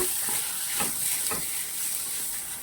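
Coriander powder and garam masala sautéing in a pan for vegetable paratha, a steady close sizzle and hiss with a few soft stirring scrapes, no talking.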